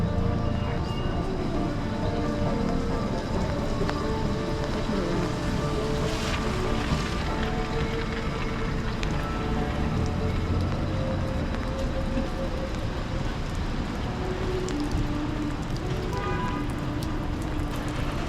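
Steady rain falls around a person walking with an umbrella through the streets of downtown Center City Philadelphia, a constant dense wash of patter with faint city rumble underneath and no talking.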